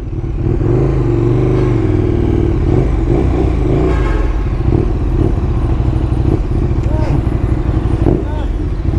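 KTM 1290 Super Duke motorcycle, a large-engined bike, idling and pulling away with a loud, deep rumbling engine close by, someone talking over it and a short rise in revs.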